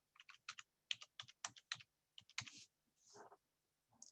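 Quick bursts of typing on a computer keyboard, irregular clusters of crisp key clicks with short pauses, close and fairly quiet with no talking.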